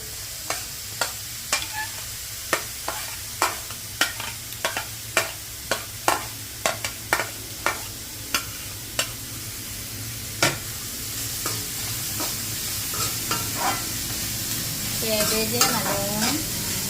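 Shredded cabbage is stir-fried in a pan for fried rice. A spatula knocks and scrapes in a steady, regular rhythm over a faint sizzle, and the scraping turns into a busier rustle near the end. No voices.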